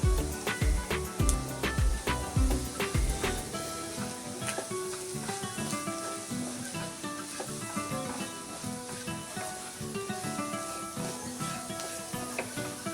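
Chili, coriander, pepper, garam masala and turmeric powders frying over a low flame with ginger, onion and garlic in a pan for bread roast, a steady sizzle mixed under strong background music with heavy beats early on.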